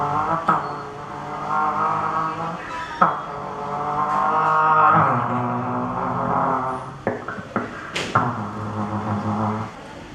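A car overtakes and passes close by on a road, its engine note rising and sweeping past with strong harmonic tones, with a few sharp knocks partway through; no talking.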